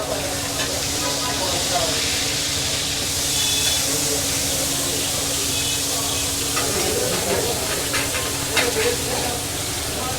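Large Padma hilsa fish frying in oil fills the air with a dense, continuous sizzle and hiss, close and loud, with a steady hum and faint background voices.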